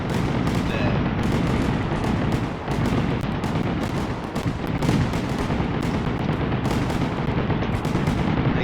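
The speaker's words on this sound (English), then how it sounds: "guess we will just enjoy the fireworks" Fireworks in the Fireworks Mania video game burst in a dense, continuous barrage of booms and crackles, loud and overlapping with no pauses, heard alone.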